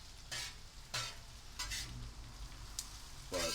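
Onions frying in a pan over low heat for breakfast, a steady soft sizzle broken by several short bursts of stirring scrapes, close and fairly quiet.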